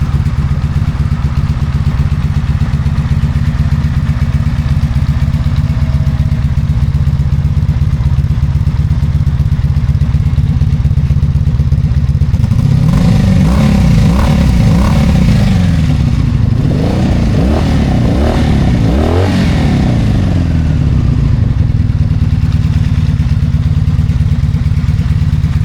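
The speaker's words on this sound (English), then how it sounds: "1983 Honda V45 Magna 4-cylinder." A 1983 Honda V45 Magna four-cylinder motorcycle engine idles with a loud, steady throb, then revs up and down several times before settling back to idle.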